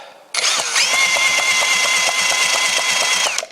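A British Seagull outboard motor being turned over, producing a steady rapid mechanical whir with a rhythmic ticking pulse that runs unbroken for about three seconds and then stops, close and fairly loud.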